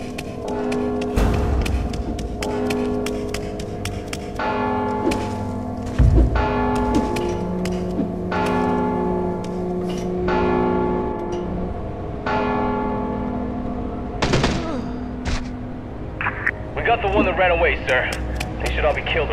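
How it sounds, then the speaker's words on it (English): A church bell in the stealth video game Mark of the Ninja tolls in slow, resonant repeated strikes that ring out and overlap, steady and prominent across about twenty seconds with game sounds and people speaking over it. "Don't you hear the bell?"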